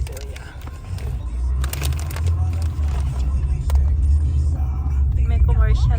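Steady low engine rumble of a car being driven on the road, continuous and close, with voices talking over it throughout.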